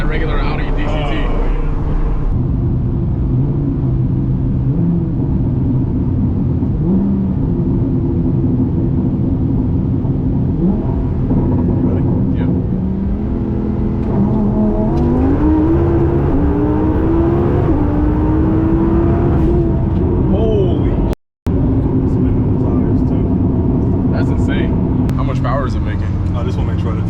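Loud in-cabin engine roar of a twin-turbo Audi R8 of about 1500 hp with a built transmission, pulling hard on an interstate, its pitch climbing steadily through gears with brief shift breaks, as people talk over it.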